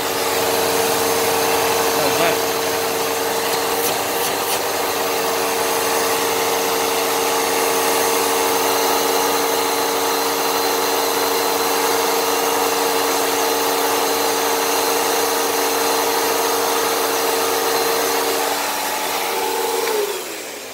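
A used T-Series vacuum cleaner, clogged and cosmetically damaged, runs continuously at close range for its suction test, a loud steady motor whine and airflow roar that holds throughout before tapering at the very end.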